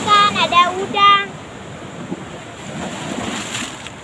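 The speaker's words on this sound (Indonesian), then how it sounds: "Awas, ombaknya kenceng." Strong ocean surf rushes against the rocky southern sea shore at Karang Blut, a broad roaring wash filling the scene after brief voices at the start.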